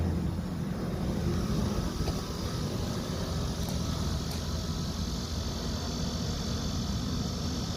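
Airliner passing high overhead as evening falls, a steady distant engine roar and broad hiss holding at an even level throughout, with no voices.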